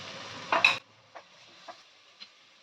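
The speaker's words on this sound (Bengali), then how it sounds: "একটা মাঝারি সাইজের পেঁয়াজ আমি কুচো করে নিয়েছি সেটা দিয়ে দিচ্ছি তেলের মধ্যে এক টেবিল চামচ দিয়ে দিচ্ছি আদা রসুনের পেস্ট" Chopped onion and ginger-garlic paste hit hot oil for chicken tehari with a short, sharp burst of sizzling, followed by quiet crackle and a few light utensil taps against the pan.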